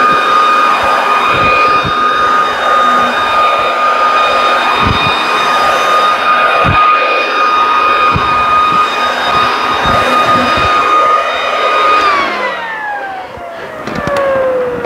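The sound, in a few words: Worx Trivac leaf blower running at maximum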